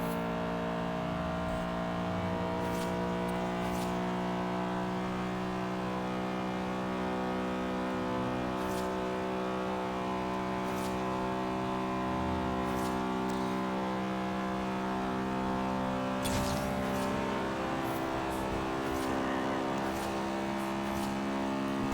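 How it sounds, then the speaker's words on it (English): Heavy road traffic in the racing game Forza Horizon 3: a steady, continuous engine drone with layered tones, as cars pass by throughout at a constant, fairly loud level. "This is some heavy traffic on this road."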